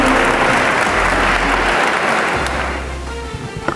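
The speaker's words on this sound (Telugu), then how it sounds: "గట్టి చప్పట్లతో మన ఈ స్టేజ్ మీదకి ఆహ్వానిస్తున్నాం" A crowd at a singing competition greets a guest singer taking the stage with loud, continuous clapping that fades slightly toward the end.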